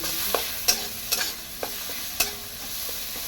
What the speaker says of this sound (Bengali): এখন আমি নাড়বো